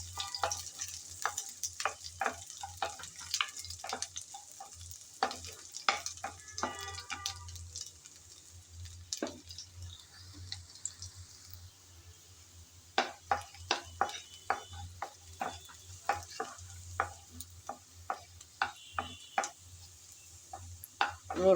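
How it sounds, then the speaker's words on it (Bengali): Chopped garlic fries with panch phoron in oil for a hog plum chutney, a soft steady sizzle punctuated by many crisp, close spatula taps and scrapes in irregular bursts. "রসুন কুচি দিয়ে ভেজে নেব।"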